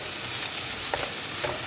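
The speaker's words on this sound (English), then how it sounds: "I'm stirring all together" Vegetables for homemade fried rice being stirred together in a hot pan: a continuous loud sizzle, with a couple of brief scraping strokes.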